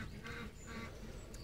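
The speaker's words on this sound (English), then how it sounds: "Very clever little duck." A young duckling, one of this year's hatches, gives a few quick, fairly close quacks over steady background noise, with no talking.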